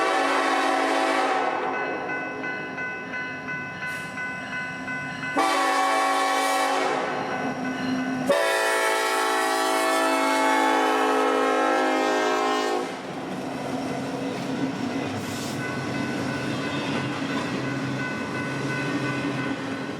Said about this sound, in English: this is NS28J, a Thursday through Tuesday intermodal train out of Shreveport, Louisiana